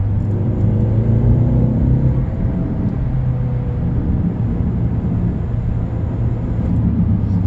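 A Mercedes-Benz CLA 250 4MATIC engine roars and rumbles in sport mode as the car pulls away hard, a steady loud drone that rises in pitch and then settles.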